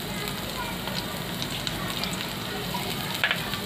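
Chopped garlic sizzles in about two spoons of hot oil in a frying pan, a steady, close crackling hiss with faint scattered pops and no talk.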